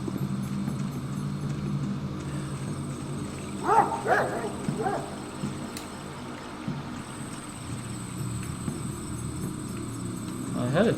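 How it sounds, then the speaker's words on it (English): Dog barking in the video game Pathologic, a few short barks around the middle and again near the end, fairly faint and distant over a steady low ambient drone and background hum. "I heard a dog bark."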